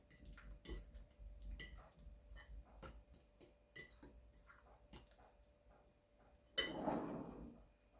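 Cauliflower casserole mixture being stirred: quiet, irregular clinks and taps of a utensil against a dish, with a louder, longer scrape near the end.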